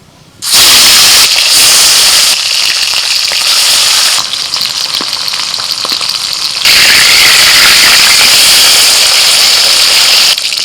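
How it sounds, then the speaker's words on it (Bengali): Bata fish sizzles fiercely in hot mustard oil, a loud, steady crackling hiss that bursts in abruptly, dips briefly, then surges again and stays strong to the end. "কড়াইতে সরষের তেল দিয়ে দিয়েছি আর তেলটা খুব ভালোভাবে গরম হয়ে গেছে প্রথমেই বাটা মাছটা রান্না করব তাই বাটা মাছটা ভেজে নিচ্ছি"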